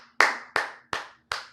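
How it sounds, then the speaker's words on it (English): A single person claps four times at a steady, unhurried pace, each crisp, close smack ringing out clearly over a quiet room with no talking. "Let me just clap for a second."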